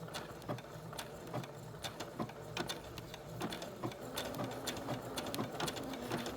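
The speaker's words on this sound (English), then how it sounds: "I've got my fabric lined up under my foot, so I'm ready to start sewing." Sewing machine stitching fabric for an appliqué tea towel, a close, even run of rapid mechanical clicks and thumps with steady whirring underneath, no talking.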